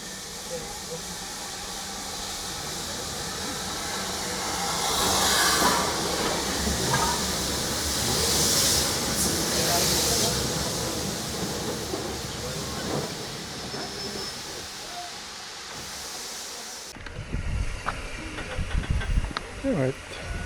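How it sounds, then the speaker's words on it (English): A steam train arriving at Grosmont station on the line by the River Esk, a long loud hiss of steam swelling midway before fading, followed by heavier mechanical clanks near the end. "Here comes the train that was delaying us."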